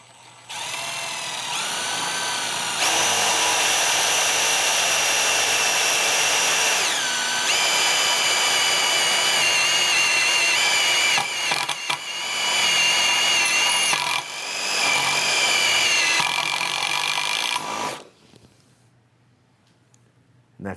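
A Milwaukee power drill bores into hard tool steel, the high whine holding steady for long stretches and dropping out briefly, then stopping near the end.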